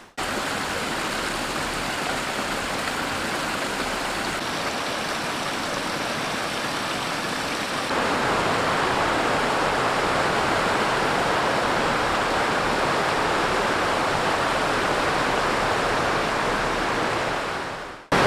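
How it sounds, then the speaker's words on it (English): A river in the Great Smoky Mountains runs with a steady, full roar of rushing water, close and constant, swelling slightly louder partway through. "There's the river there."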